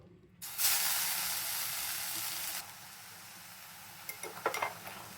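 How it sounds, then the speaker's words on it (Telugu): Tender tamarind leaves hit hot cold-pressed oil in a pan and sizzle with a loud, steady hiss that eases after a couple of seconds, then a few light clinks of a small spoon against the pan. "చివరగా చింత చిగురు వేయించేసుకుందాం."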